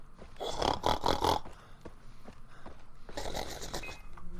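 Pig grunting in the video game Far Cry 3, a few rough snorting grunts in quick clusters at moderate distance, fairly faint, with a pause between bursts.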